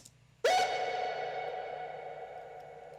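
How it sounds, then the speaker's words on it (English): A large concert-hall reverb from Valhalla VintageVerb on an element of a pop song mix: one loud note or sound enters sharply, then rings out in a long, smooth, slowly fading wash that fills the space. "we have a large reverb, a concert hall, Valhalla vintage verb. Let's hear what that adds without and with."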